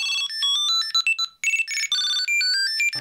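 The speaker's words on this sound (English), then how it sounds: "Nomad wallet is nearby. I'm ringing it now." A bright electronic ringtone chimes from a Nomad wallet tracker in a quick, repeating melodic pattern of high beeps, loud and close, with no talking.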